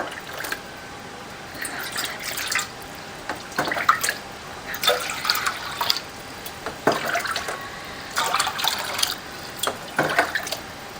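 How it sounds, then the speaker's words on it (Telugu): Water is poured into a pot of Hyderabad-style vegetable soya pulao in several separate bursts of splashing and trickling, each lasting a second or two, with quiet gaps between. "ఇప్పుడు మనం వాటర్ వేసేసుకుందాం."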